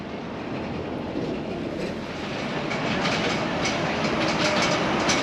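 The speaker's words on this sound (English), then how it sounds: "we'll just get a tram out to the airport" A tram heading to the airport from the city centre gives a steady rolling rumble with rhythmic rail clatter, loud and continuous throughout.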